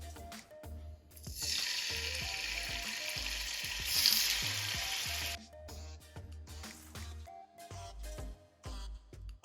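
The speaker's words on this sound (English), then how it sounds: "Now I'm going to fry the chicken." Chicken pieces frying in hot oil for a stew, a loud steady sizzle starting about a second in and holding through most of the clip, easing near the end, with occasional stirring clatter and no talking.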